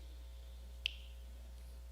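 A single crisp finger snap rings out once, short and sharp, in an otherwise quiet room with a low steady hum.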